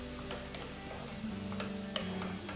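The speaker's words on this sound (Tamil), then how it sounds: "வெங்காயம் நல்ல பொன்னிறம் ஆற வரைக்கும் வறுக்கணும்" Chopped onions, green chilies and curry leaves frying in oil in a pan, a soft steady sizzle with intermittent scraping stirs close by, no talking.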